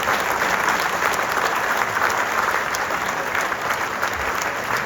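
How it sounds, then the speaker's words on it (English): A large evening audience in Dallas claps continuously for an officer being honoured, a thick steady roar of hands with no break and no speech over it. "a round of applause for Officer Brian Kelly, who's with us here this evening"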